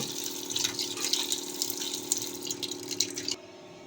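Running tap water splashing steadily into a sink while chicken pieces are washed in a home kitchen, a continuous close rush that stops abruptly near the end.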